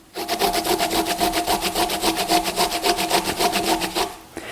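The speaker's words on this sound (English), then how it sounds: "simply grate your ginger with the skin on" Fresh ginger, skin still on, is rubbed over a grater on a board in a quick, even rhythm of rasping strokes, about five per second, close and clear with no talk.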